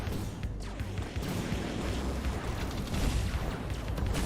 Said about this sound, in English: Oh, I got an ammo explosion.